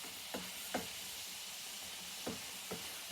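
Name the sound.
minced meat browning in a pan for spaghetti bolognaise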